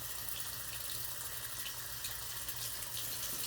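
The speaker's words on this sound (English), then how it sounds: "So to clean this brush, all you need to do is rinse it out" Tap water running steadily over a jewelry cleaning brush as it is rinsed in a sink, a constant bright splashing hiss with no talking.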